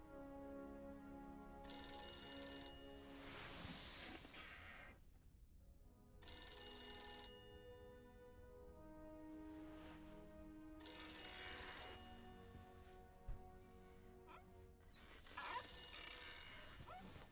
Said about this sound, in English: There's evidently the phone is ringing.